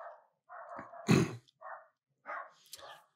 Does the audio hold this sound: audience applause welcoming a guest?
no